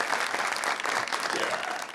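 A studio audience at an Eid-ul-Adha special television show gives a loud, thick burst of applause for the guest singer, filling the full two seconds without a break.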